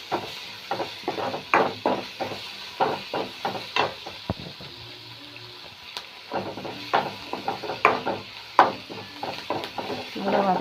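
Vegetables sautéed with turmeric and salt in a pan, with repeated stirring and scraping knocks at an uneven rhythm over a faint sizzle, close and fairly loud, with a few low murmurs between strokes.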